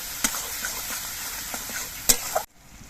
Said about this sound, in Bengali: এবার মশলা দিয়ে কিছুক্ষণ কষিয়ে নিতে হবে